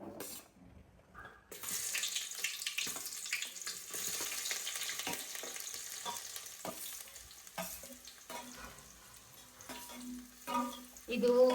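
Sliced onions frying in hot oil in a pan for egg dum biryani, a steady crackling sizzle with occasional stirring scrapes and clinks, moderately close, after a quiet opening.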